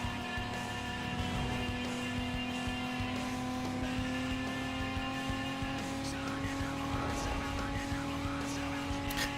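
A race car with a 2JZ engine in Need for Speed Most Wanted drones steadily throughout, with hints of tire squeal and skidding in a game mix.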